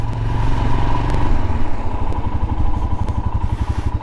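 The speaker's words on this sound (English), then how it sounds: "let's have a look at this bike out on the road" Royal Enfield Himalayan motorcycle on the road, a loud steady engine thump with a low rhythmic pulse and rumbling wind and road noise throughout.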